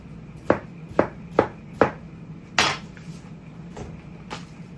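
Knife chopping a watermelon into bite-sized cubes on a cutting board: four sharp, evenly spaced chops, then a louder fifth cut and a few fainter taps, close and clear with no talking.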